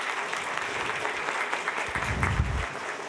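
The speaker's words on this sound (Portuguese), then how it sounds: "Vamos lá, palmas para a nossa corte." Steady applause from a carnival league crowd honouring its carnival court, a dense mid-level patter of many hands with a brief low rumble near the end.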